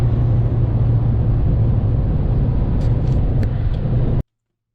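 A VW Golf V GTI drives at about 210 km/h after a missed shift into fourth gear. Its engine and road noise make a loud, steady, dense droning rumble that continues unbroken, then cuts off abruptly near the end.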